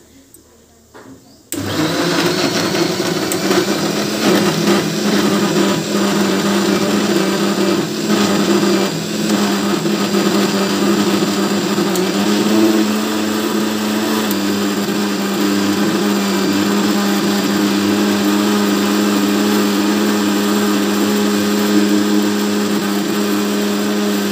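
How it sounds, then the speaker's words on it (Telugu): A kitchen mixer grinder runs steadily for a long stretch while blending tomato chutney, a loud constant whirring motor drone that starts abruptly after a brief quiet moment. "ఈ టమాటా పచ్చడి అనేది తొందరగా మిక్సీ అవుతుందండి"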